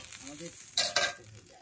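Chicken being stir-fried kosha-style in a pan over a wood fire, a soft steady sizzle broken by a couple of quick scraping stirs near the middle.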